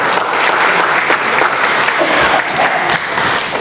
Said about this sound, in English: So please give a round of applause for the vision.